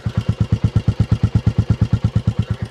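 A Royal Enfield Classic 350 single-cylinder motorcycle engine with standard exhaust idling close by, a steady, even thumping pulse at a brisk rhythm with no other sounds.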